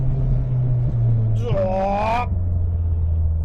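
A Honda Civic EK9 with a K24 engine pulls hard in third gear, a steady low drone that rises into a brief, rising rev, heard close from inside the car.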